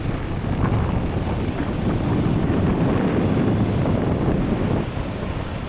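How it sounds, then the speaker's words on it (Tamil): Strong wind roars steadily across an open New Zealand beach, buffeting the microphone in a dense continuous rush with possible surf underneath, easing slightly near the end. "காற்று செம விசு விசு விசு விசு விசுன்னு அடிக்குது"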